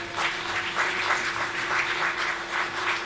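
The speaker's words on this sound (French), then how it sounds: "vous pouvez l'applaudir" Audience applause at a chess Grand Prix prize ceremony in Bordeaux, a steady wash of many hands clapping continuously throughout, with a faint steady hum beneath.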